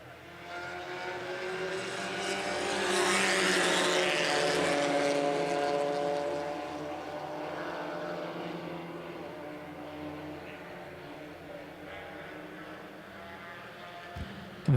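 Stock cars racing at the Winchester 400, a steady loud engine roar that swells as the field passes close and then settles into a sustained drone, no talk.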